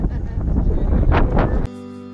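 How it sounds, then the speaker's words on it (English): Broadband desert wind buffeting a microphone on a hike in Palm Canyon, Arizona, loud and steady with rumbling gusts, cutting off abruptly near the end. "It's really windy."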